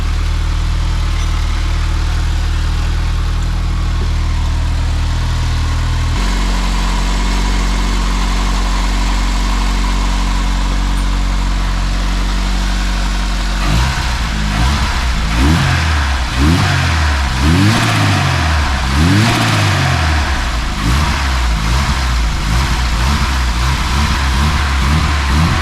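Mercedes W124 drift car with a new MaxpeedingRods turbo, engine idling steadily and loudly, dropping to a lower idle, then repeatedly revved in short blips, close by with no voices.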